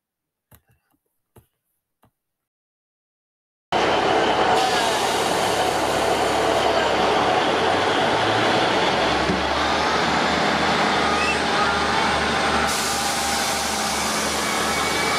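Transport for Wales train at Bridgend station, its steady loud rumble and hiss starting abruptly and running on close by after a few faint clicks.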